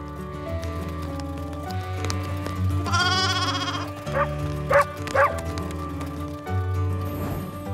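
Lambs bleating in a short burst of wavering cries over a steady animated-show music bed, followed by a few shorter bleats, mid-distance and clear.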